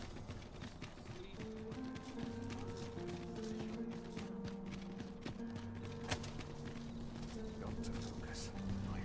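Horse hooves from the game Dragon's Dogma 2 beat in a steady, moderately quiet rhythmic clip-clop of a horse on the move, set under continuous musical and ambient game sound with voices talking.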